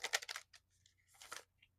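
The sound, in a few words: shuffling a deck of cards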